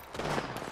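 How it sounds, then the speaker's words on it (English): A short, dense burst of gunfire rattles out during an Apex Legends match, loud and close, with no talking. "Taking fire."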